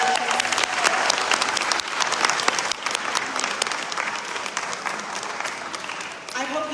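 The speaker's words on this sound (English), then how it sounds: "We can give them a round of applause." Audience applause at a school appreciation evening, dense steady clapping from a crowd in a hall that holds loud and even throughout before easing slightly at the end.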